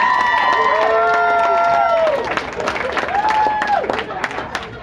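A comedy club crowd at a stand-up show claps and cheers loudly after being asked to make noise, with whoops and shouted voices rising over the clapping before it thins out.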